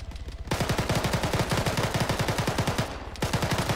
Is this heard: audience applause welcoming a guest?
no